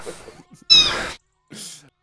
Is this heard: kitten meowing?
yes